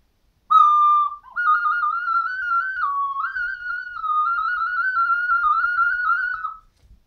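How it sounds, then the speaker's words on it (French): A Chinese ocarina sounds one sustained, very high, pure tone that slides and steps between a few close pitches for about six seconds. It is loud and close against near silence. "Un ocarina de Chine, un vrai ocarina quoi."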